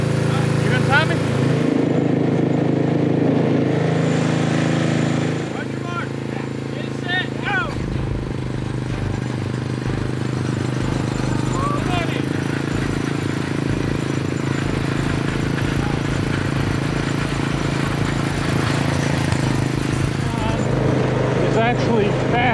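A 1972 Model T parade kart's small engine pulling away on a hot lap, a steady buzzing drone that picks up after a few seconds and holds loud and near, with people talking over it.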